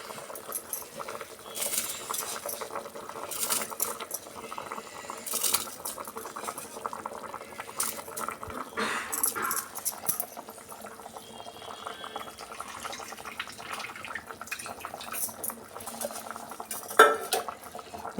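Washed rice is tipped into a pot of masala for vegetable pulao and stirred, with repeated metal spoon clinks and scrapes against the pot over a soft bubbling hiss, the pouring and mixing running on and off throughout.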